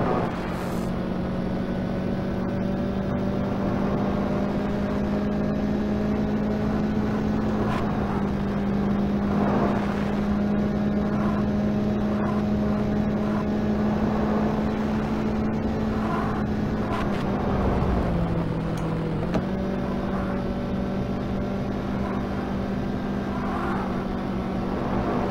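A car engine in the 3DO game The Need for Speed hums steadily at high revs, then drops in pitch as it downshifts, loud and continuous throughout.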